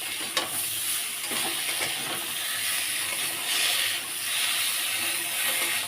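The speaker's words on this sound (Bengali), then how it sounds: "টমেটোটা আর ওই টমেটো সজনে ডাঁটাটা একসাথে দিয়ে দেবো। ভাজা ছিল এগুলো, একটু হালকা ভেজে নেবো" Tomatoes and moringa drumstick pods lightly frying together in a pan for a fish curry, a steady close sizzle with soft stirring scrapes throughout and no talking.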